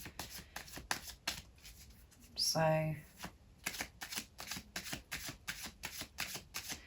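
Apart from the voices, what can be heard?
shuffling a deck of tarot cards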